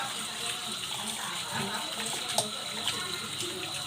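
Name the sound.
rinsing lab equipment under running tap water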